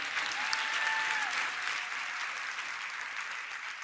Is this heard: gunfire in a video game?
no